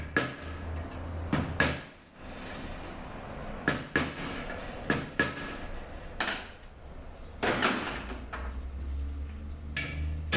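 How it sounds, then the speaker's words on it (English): A hammer knocking a tab out of the way during a teardown of a Honda P36A engine, with a series of sharp metallic strikes at irregular intervals over a workshop hum. "let's knock this tab out of the way."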